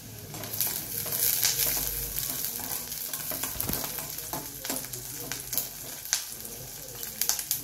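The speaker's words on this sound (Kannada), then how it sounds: "ಸೊ ಈರುಳ್ಳಿ ಬೆಳ್ಳುಳ್ಳಿ ಸ್ವಲ್ಪ ಚೆನ್ನಾಗಿ ಫ್ರೈ ಆಗಬೇಕು" Onion and garlic frying in a pan for bassaru, a steady close sizzle with occasional stirring scrapes and light clinks throughout.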